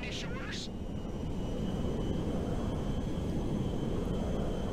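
Cargo plane engine in GTA Online, a steady, loud low rumble that continues throughout, with brief voice-like chirps at the very start.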